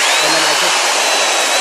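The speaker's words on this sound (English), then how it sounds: "I put some rubbing compound on the gauges with the pencil chucked in my drill" Electric drill spinning a pencil stub loaded with rubbing compound to polish hazy plastic gauge lenses, a steady continuous high whir with a brief low hum near the start, loud and close with no voices.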